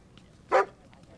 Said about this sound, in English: He barked at me.